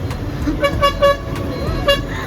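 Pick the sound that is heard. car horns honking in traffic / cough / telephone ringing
car horns honking in traffic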